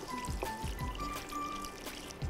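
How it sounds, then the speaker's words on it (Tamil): Water poured into a pan of sautéed onions for French onion soup, a short uneven trickle and splash running through the whole stretch with small clinks, close by and with no talk. "லேசாக தண்ணி சேர்த்து நல்லா கொதிக்க விடுவோம்"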